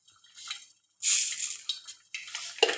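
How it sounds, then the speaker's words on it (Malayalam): Mustard seeds crackle and spatter in hot oil in a pan for a Kerala-style tapioca thoran, a bright hiss with scattered pops and a metallic clink near the end, with no talk. "കടു വറുത്തിടാൻ പോവാണ്."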